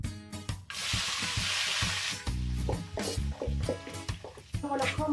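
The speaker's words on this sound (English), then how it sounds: "I add my coconut oil, and now I'm gonna saute my vegetable" Vegetables hit hot coconut oil with a bright, loud sizzle that swells then settles, mixed with clattering utensil knocks and pan movements for Jamaican ackee and saltfish.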